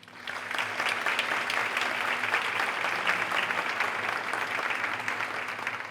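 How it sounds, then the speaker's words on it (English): Sustained applause from an audience, a steady wash of clapping hands lasting several seconds without pause. "Big applause, please."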